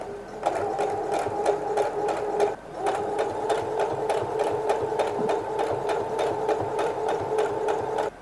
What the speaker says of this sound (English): Now I will just put it on the machine and stitch around the edge.